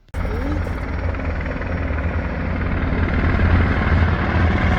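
Steady, loud rotor and engine drone of helicopters overhead in downtown Washington, D.C., a constant low rumble with slight rise in intensity, no voices.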